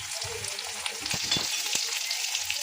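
Ginger garlic paste frying in a pan, a dense close sizzle with a few low stirring thumps, steady and unbroken for a short stretch.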